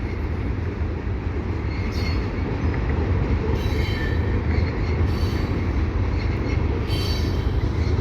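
A CN mixed freight train rolls past at Chemin Isle Claude in fall, a steady loud rumble of wagons with wheel squeal and faint clatter throughout, no talk.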